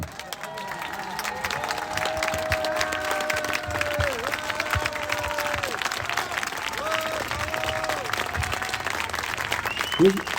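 A crowd gathered at a support rally applauds a speaker's arrival with sustained, dense clapping, while overlapping voices and shouts ride on top and a brief louder knock sounds near the end.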